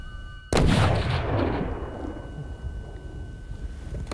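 A single loud rifle gunshot fired outdoors during a hunt, a sharp blast followed by a long rolling echo that fades over several seconds.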